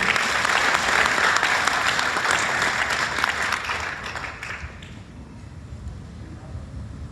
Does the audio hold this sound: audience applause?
yes